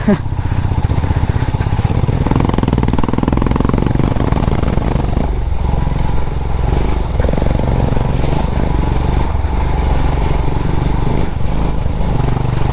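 Royal Enfield Himalayan BS6 motorcycle ridden along a muddy monsoon trail, its engine droning steadily and loudly throughout with rattling from the panniers, and a rider's voice speaking over the noise.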